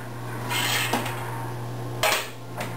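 A metal pot for home brewing is handled over boiling water, with a few light clinks and knocks of metal against a steady low hum of the stove or boil, close by and without talk.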